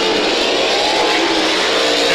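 Race cars racing on a dirt track at 34 Raceway, a loud, dense, continuous engine roar that fills the whole stretch without any talk.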